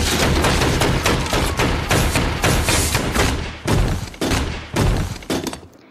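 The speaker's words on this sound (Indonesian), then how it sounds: "Milan pun hendak menembak Sander." Rapid bursts of gunfire in a film scene where a man is about to shoot another, loud, dense shots one after another with sharp cracks and crashing impacts, no talk.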